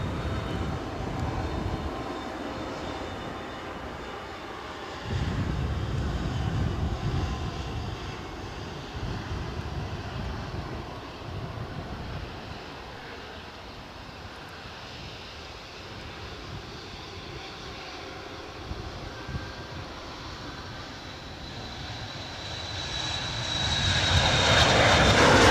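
A Falcon business jet takes off at Edinburgh airport, its engines roaring loudly and steadily throughout, swelling and fading as it passes, with no talk heard.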